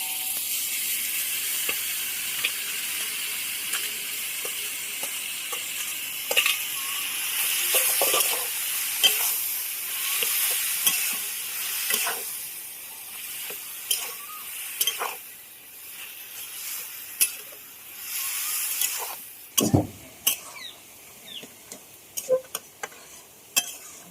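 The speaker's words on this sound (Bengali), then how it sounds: "এবার আমি সেদ্ধ করে রাখা কচুর শাকটা দিয়ে দেবো এর ভিতরে।" Boiled taro leaves go into a chickpea masala frying in a pan: a soft continuous sizzle broken by scattered spoon clicks and scrapes, with one heavier thump near the end.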